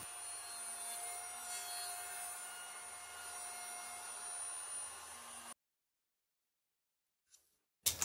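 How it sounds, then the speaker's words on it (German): Steady, even whirring and rasping of a milling machine flattening the top surface of a piano key on a Yamaha grand, running continuously, then stopping abruptly into silence with a couple of faint knocks after. "Die Taste wird wieder eingespannt und dann die Oberseite plangefräst."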